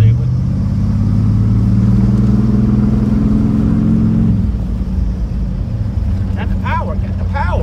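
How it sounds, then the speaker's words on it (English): A Chevrolet C3500 truck with a 350 Vortec gas engine runs with a loud, steady low rumble that eases off partway through, and a voice speaks briefly near the end. "That's that 350 Vortec. It's a gas engine in a 3500."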